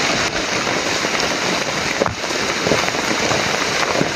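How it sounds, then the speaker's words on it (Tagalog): Steady rain pours down outdoors, a dense continuous hiss with scattered louder drops and patters against nearby surfaces, with no talk. "Ulan naman eh, ulan na."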